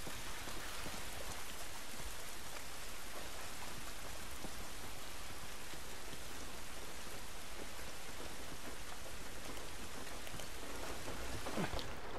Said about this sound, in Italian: Bello sentire il rumore della pioggia.